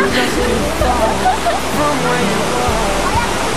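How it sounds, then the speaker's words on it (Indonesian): A waterfall at Pagar Alam pours in a loud, constant rushing roar close by, broadband and unbroken, with talk mixed in. "Anda lihat ada air terjun di samping ini."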